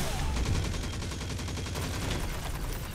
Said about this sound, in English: Now reload this pulse rifle and try to challenge this lane.